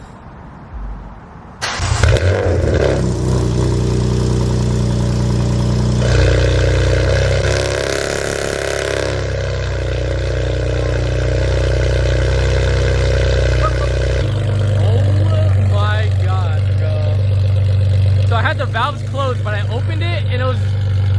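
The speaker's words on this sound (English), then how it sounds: "Just starting your car up for the first time after working on it" A BMW F80 M3 engine with catless downpipes cranks and roars to life on a cold start, then settles into a loud, rumbling idle with deep exhaust burble that continues steadily throughout.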